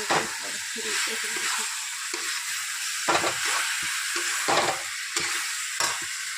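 Chicken frying with masala in a pan is stirred, with a steady loud sizzle throughout and repeated scraping strokes of the spoon; a voice speaks briefly.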